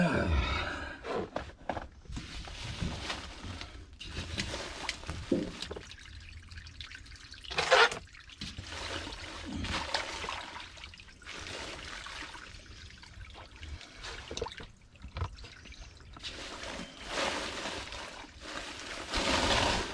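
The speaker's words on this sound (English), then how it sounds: "So I guess we start draining water first." Leaked water draining out of a house's underbelly, a steady trickling and dripping with occasional louder gushes and rustling, close by and fairly faint throughout.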